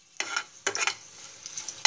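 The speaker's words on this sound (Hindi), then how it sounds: "और इनको हल्का हल्का हम फ्राई कर लेंगे।" Mustard seeds, green chili and curry leaves fry in hot oil for a tempering, with loud sizzling bursts as they are stirred, three sharp surges with crackling between them.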